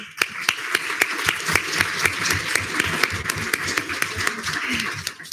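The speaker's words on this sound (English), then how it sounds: "I just want to give one more round of applause for yourself too" A student government senate audience applauds in a room, sharp individual claps standing out over a steady bed of clapping that continues for several seconds, with some voices underneath.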